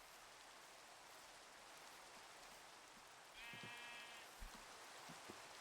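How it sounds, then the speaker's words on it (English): A Minecraft sheep gives a single short bleat over a steady patter of in-game rain, with a few soft thuds afterward. "Sheep."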